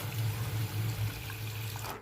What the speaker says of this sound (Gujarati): તો હવે એનાથી ડબલ પાણી નાખી.